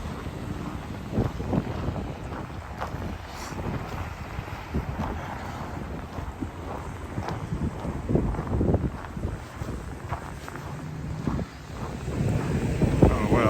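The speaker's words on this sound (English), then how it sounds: "I'm tired of walking due north into the wind" Steady wind gusting across the microphone while walking downtown in Regina on a cold March day, a continuous loud buffeting rumble with no speech.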